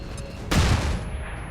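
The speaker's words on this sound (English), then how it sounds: "toss out a flashbang over here on both of these guys." Flashbang grenade detonating in the game XCOM 2 Long War 2: a single sharp, loud blast that cuts in abruptly and leaves a broad rumbling tail for about a second.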